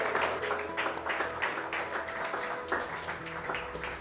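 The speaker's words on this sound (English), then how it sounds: "we want a big round of applause now for Mr. Con Lynch" Dense, steady clapping from a crowd fills the space, a continuous wash of applause at moderate level without pause.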